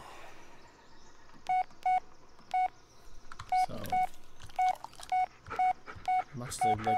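Touch-tone phone dialing in the Blair Witch video game: a run of about a dozen short, evenly spaced keypad beeps over quiet ambience, with brief talk in between.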